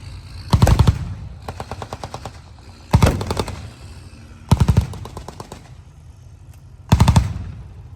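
Machine gun bursts ring out at a tank weekend battle reenactment at the Canadian Tank Museum in Oshawa, five loud rapid-fire volleys separated by short pauses, with a quieter rattling burst between the first two.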